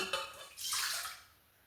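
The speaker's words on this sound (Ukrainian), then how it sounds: "Я буду замішувати все в міксері. Виливаю воду" Water pours briefly into a stand mixer bowl for dough, a rushing splash that swells then tapers off, close by.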